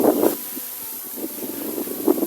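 Strong wind gusts across open rice fields in rural Isan, Thailand, buffeting the microphone in loud, uneven rumbling bursts with no voices.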